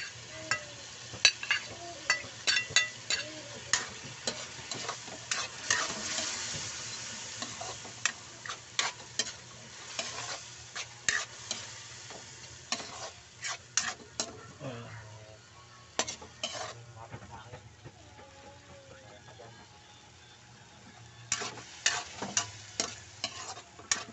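Carrots cook in a pan for escabeche with a faint, soft sizzle under frequent sharp clicks and taps of a utensil stirring against the cookware, the clatter coming in irregular bursts.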